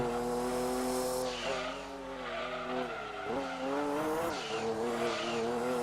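A race car in Gran Turismo 2 drives at high speed, its engine roaring loud and steady, pitch sliding down and back up with gear changes and tire squeal, continuous throughout.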